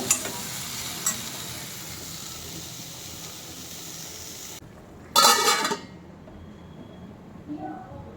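Cashews frying in ghee for payasam hiss in a steady close sizzle, which drops away midway and gives way to a short loud burst of frying or clinking, then quiet kitchen noise.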